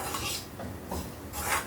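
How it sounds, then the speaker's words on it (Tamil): A spoon scrapes and stirs grated coconut, dry ginger powder and palm sugar being sautéed in a pan, a few soft scraping strokes, faint and close. "இப்போ இதையும் ஆட் பண்ணி நல்லா வதக்கிட்டு"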